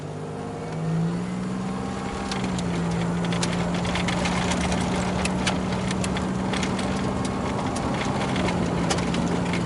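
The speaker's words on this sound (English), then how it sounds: "No other V6 engine makes those kind of sounds." A 1989 Oldsmobile 88 Royal with a 3.8 V6 idles steadily up close, giving a smooth, even low hum with faint ticking on top and no talking.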